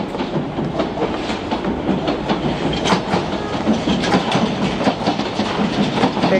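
A London Underground Piccadilly line train rolls along the tracks with a loud, continuous rumble and rhythmic clickety-clack from the wheels, heard close and alone without talk.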